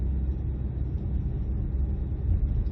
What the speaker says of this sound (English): small capacity turbocharged engines very often do sound like this